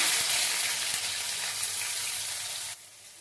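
Chopped onion with bay leaf and whole spices frying in hot oil in a kadai, a steady close sizzle that drops abruptly softer near the end.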